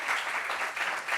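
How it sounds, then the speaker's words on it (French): Sustained ovation from a talk-show studio audience welcoming a guest onto the set, brisk continuous clapping throughout, fairly close and even. "Ovation pour M. Kofi Justin"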